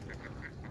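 Ducks on a farm of about a thousand birds give several short honking quacks in quick succession, faint and somewhat distant, over a low background rumble.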